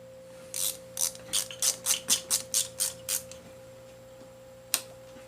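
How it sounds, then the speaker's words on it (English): Ratchet tightening clamps on a 1996 Suzuki DR650 motorcycle during a restoration, about eleven quick evenly spaced clicks close up, then a pause and one sharp click. "let's get these clamps tightened back on."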